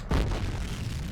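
A grenade goes off in the F.E.A.R. shooter game, a single sudden boom with a rumbling tail that fades over about a second, with no voices over it.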